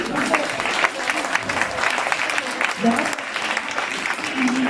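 An audience at an upcycled fashion show at a textile festival claps in a sustained round of applause, with voices talking over it at times.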